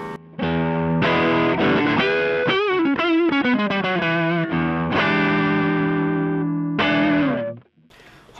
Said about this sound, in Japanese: フェンダーのハンマートーンシリーズのオーバードライブです。